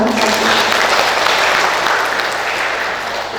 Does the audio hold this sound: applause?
yes